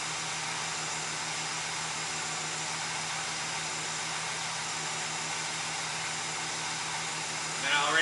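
A shop truck engine idles in a workshop, a steady, even low hum with a continuous whirring rush over it, holding constant throughout with no speech.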